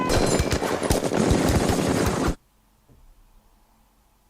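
Sustained machine gun fire from a Band of Brothers war scene rattles as loud, rapid, dense bursts for about two seconds, then cuts off to near silence.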